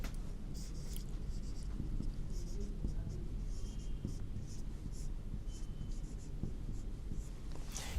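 Writing out an equation on a board, a steady run of soft scratchy strokes and taps, close and fairly quiet, with a faint voice at times.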